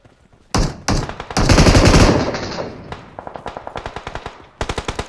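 Bursts of automatic gunfire in the battle royale video game PUBG Mobile, a long sustained volley followed by rapid, evenly spaced shots and a final quick burst, loud and close with no talk over it.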